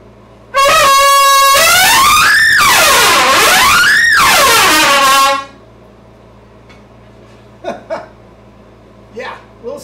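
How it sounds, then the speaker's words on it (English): A trumpet blares loudly and close in a long, bending, swooping phrase of several seconds, then cuts off, followed by a few short quieter bursts. "Let's try another trumpet."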